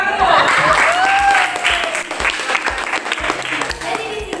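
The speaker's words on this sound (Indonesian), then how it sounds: "Oke, tepuk tangan dulu." A classroom group bursts into loud applause before a science presentation, the clapping strongest at first and then thinning into scattered claps, with a high whistle-like voice and some chatter mixed in.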